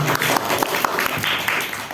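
An audience at an Islamic talk on sincerity claps for Mas Wahyu after his question, a dense, steady wash of many hands filling the whole moment at close, fairly loud level.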